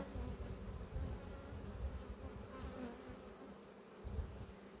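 A nest of bees buzzes steadily and close, a dense continuous drone that swells and dips slightly with no voices.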